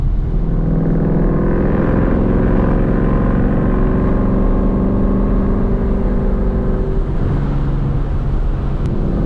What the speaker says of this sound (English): It's very like tame, just a little loud, but that's because it's, you know, no cats with an exhaust.